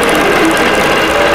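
Sewing machine running continuously while stitching a quilted winter tree skirt, a loud, close, steady mechanical whir with rapid rhythmic ticking and no speech.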